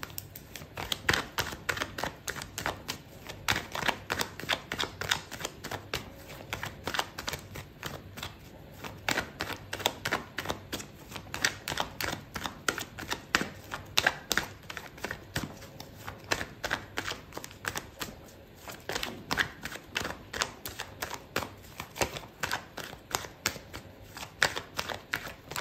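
Tarot cards shuffled over and over at close range, a long run of crisp riffling bursts and soft slaps in a steady, repeating rhythm with no talking.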